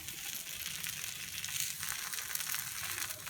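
Kara paniyaram frying on low flame in a paniyaram pan, a steady soft sizzle and gentle crackle running evenly throughout, close and moderately quiet, with no voices.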